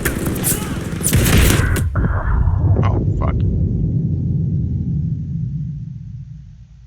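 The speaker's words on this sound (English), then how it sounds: "Who the hell's firing at me?" Gunfire from the Stalingrad mission in Call of Duty Vanguard: a loud burst of rapid shots and booms up front, then scattered sharper cracks and a low rumbling battle bed that fades toward the end.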